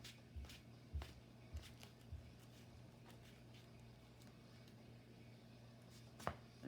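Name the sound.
shuffling a deck of cards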